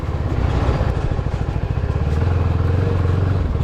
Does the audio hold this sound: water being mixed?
no